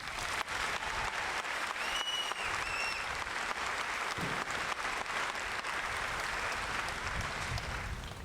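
A large crowd at an Army infantry graduation ceremony at Fort Benning applauds the Maneuver Center of Excellence Band with sustained, dense clapping that holds steady for over eight seconds, with faint whistles early on.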